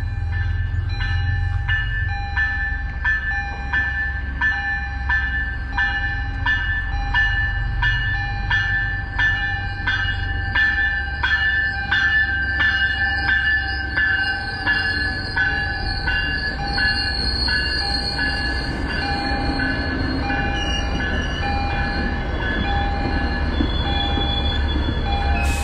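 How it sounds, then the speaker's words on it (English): An MBTA commuter rail train rolls through a station on Marathon Monday, loud and close, with a steady rumble, repeated rhythmic wheel clacks and a high metallic squeal from the wheels running the whole way, and no voices. "And now a train."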